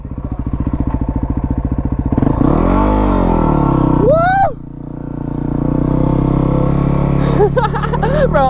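A supermoto motorcycle engine drones and revs loudly up close while riding a loop, its pitch sweeping up and down with sharp throttle blips near the end.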